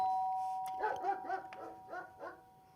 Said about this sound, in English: there we have the doorbell and then the dog barking